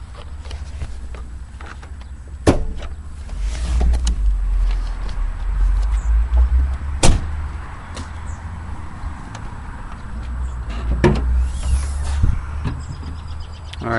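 The hood of a 2001 Ford Crown Victoria is opened, giving a few sharp metallic clunks and latch clicks spaced apart over a low, steady background rumble.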